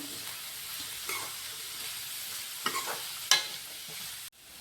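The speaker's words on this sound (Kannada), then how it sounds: "ಎಲ್ಲ ಸ್ವಲ್ಪ ಫ್ರೈ ಆಗುತ್ತೆ" Capsicum and other vegetables stir-fried in a pan for veg fried rice, a soft steady sizzle broken by several scraping stirs of a spatula, the last one loudest before it cuts off.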